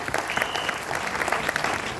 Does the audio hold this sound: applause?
yes